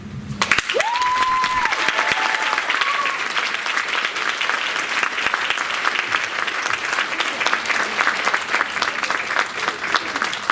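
An audience at a Langston Hughes oratorical contest gives sustained, dense applause after a speaker finishes, many hands clapping evenly at full strength, with a brief tone sounding near the start.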